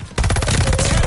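Rapid automatic gunfire in the shooter game Call of Duty Vanguard, a loud burst of about a dozen closely spaced shots lasting roughly a second.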